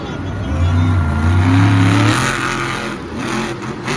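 A monster truck engine revs hard during a freestyle run at a Monster Jam arena show, a loud close roar rising and falling in pitch over four seconds, with crowd noise around it.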